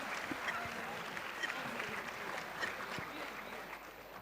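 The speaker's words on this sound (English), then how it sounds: "can we have a huge round of applause for all the finalist teams here?" A quiz audience claps for the finalist teams at a quiz final, a sustained, even wash of applause from a crowd at moderate distance.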